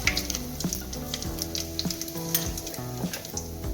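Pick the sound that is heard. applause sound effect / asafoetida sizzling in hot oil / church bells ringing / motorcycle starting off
asafoetida sizzling in hot oil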